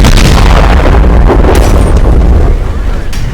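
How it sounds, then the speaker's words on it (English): A tank's ammo rack detonating in a tank video game, a loud, heavy boom with a thick rumbling roar that holds nearly the whole time before easing slightly at the end. "I believe that was an ammo rack that killed him."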